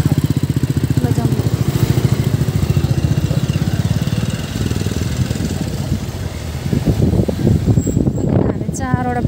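Motorcycles riding out on the way to a fair, a close, loud putter of small engines with a steady rapid pulse that later roughens and surges, with people talking over it.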